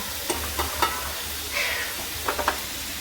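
Spices for a tadka sizzle in hot oil in a home kitchen pan, a soft steady fry broken by a few sharp scrapes and taps of a stirring spoon.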